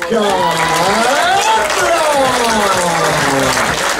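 Audience applause and cheering fill the air at an SSV rally prize podium, steady and loud for the whole stretch, with voices rising over the crowd noise.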